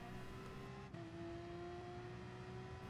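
A race car engine drones steadily, its pitch dropping once as a gear shifts down before holding a smooth tone, in Gran Turismo Sport; faint and continuous with no talk.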